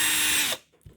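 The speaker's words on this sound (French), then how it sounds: "Allez, on va visser." A power drill drives screws into parts of a 1/8-scale Hobbytech NXT Evo 4S brushless RC buggy, a loud steady whir that runs for about half a second and then stops abruptly, leaving faint handling noise.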